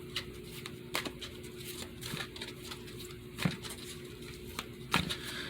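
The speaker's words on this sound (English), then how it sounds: "I am shuffling these Oracle cards." A deck of oracle cards is shuffled close up, soft repeated riffling and tapping at irregular intervals, faint against low room noise.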